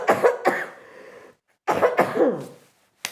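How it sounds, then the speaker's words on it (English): A person coughs in two separate fits of harsh, throaty bursts close to the microphone, with a short silence between them and a final brief cough at the end. "Oh, I'm coughing"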